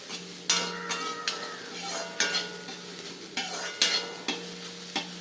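Dry roasting spices with coconut in a pan over a medium flame, with a spoon scraping and stirring in regular strokes over a faint sizzle.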